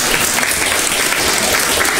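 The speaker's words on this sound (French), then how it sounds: "Je vous demande de vous applaudir." Students in a studio audience give loud, dense, continuous applause that holds steady from start to finish.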